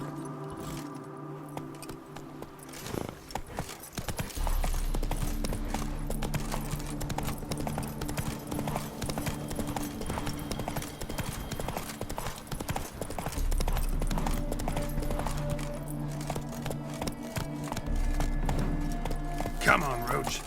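Roach the horse's hooves trotting in The Witcher 3: Wild Hunt, a steady rhythmic clip-clop with jangling tack that continues for the whole stretch, with speech and game background sounds layered over it.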